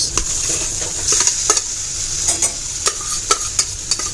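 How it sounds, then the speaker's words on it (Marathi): Jackfruit is sautéed in oil for a Konkan-style biryani, with a steady sizzle under repeated scraping stir strokes of a spoon against the pan, close and fairly loud. "फणसाला छान तेलामध्ये परतून घेऊया"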